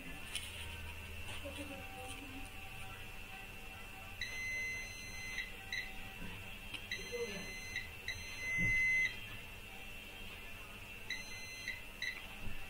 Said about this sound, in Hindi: ये देखिए यहां पर बीप आ रहा है